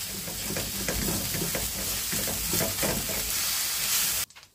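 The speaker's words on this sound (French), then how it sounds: "Je verse un peu d'eau dans mon wok pour le nettoyer un petit peu" Water poured into a hot wok hisses and sizzles loudly, a dense steady roar with stirring scrapes, close up, before cutting off abruptly near the end.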